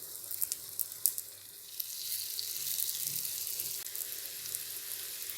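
Small onion dough balls frying in oil in a hot paniyaram pan, a soft steady sizzle with a few sharp crackles early on, close by and fairly quiet, no talking.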